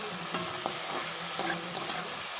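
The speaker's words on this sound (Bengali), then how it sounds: "আমি কিছুটা ভেজে নেবো, তারপরে মাছের ডিমটা দেবো" Oil sizzles softly in a pan as something is fried before fish roe goes in, with a few light stirring clicks and scrapes over a steady low hiss.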